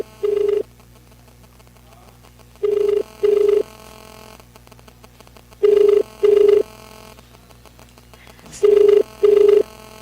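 A telephone rings in paired electronic bursts, three double rings spaced evenly over a steady line hum, heard through a radio call-in broadcast.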